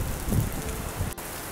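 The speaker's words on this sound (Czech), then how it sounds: "Já si jako myslím, že fakt prší" Steady rain falls outdoors during a walking event, a dense even hiss of drops with a slightly fuller patter near the start, fairly close and continuous with no voices.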